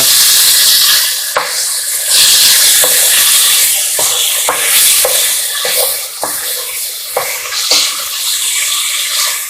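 Bacon frying in a pan and being stirred, loud continuous sizzling broken by repeated sharp scrapes and clacks of the utensil.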